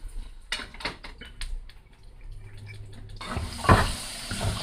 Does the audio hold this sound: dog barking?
no